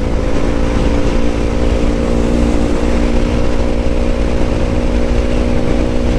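A Yamaha MT motorcycle engine drones loud and constant, with heavy rushing wind noise, as it rides up from behind during a group ride.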